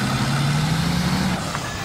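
A dump truck's engine in the MudRunner off-road video game, a continuous low rumbling drone with a slight pitch rise, steady and close throughout.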